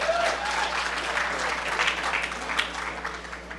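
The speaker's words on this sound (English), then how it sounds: "Applause, please." Audience applause at the 2008 HOPE hacker conference, a dense, even wash of many hands clapping throughout, sustained at moderate loudness with no talk over it.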